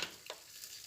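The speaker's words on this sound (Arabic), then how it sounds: "دي حله هي فيها شويه زيت سخن، هنزله بقى اشوحه شويه" Food frying in a pot of hot oil while being stirred, a faint, steady hiss with a brief soft scrape partway through, heard alone.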